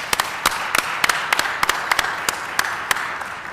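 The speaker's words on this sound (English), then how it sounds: "give George Siemens a round of applause" An audience claps briefly, with a handful of sharp, scattered claps spread across a few seconds rather than sustained applause, fairly faint and without talk.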